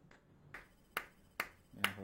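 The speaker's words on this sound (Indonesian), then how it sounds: "Jadi kalau gue tepuk nih" Four sharp hand claps ring out near a Realme Book laptop microphone, evenly spaced and fairly crisp against a quiet room.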